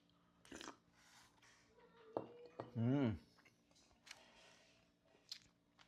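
Biting into and chewing balut, a boiled duck egg eaten with salt and vinegar, heard as a few close, wet crunching and squishing bites between short bursts of talk.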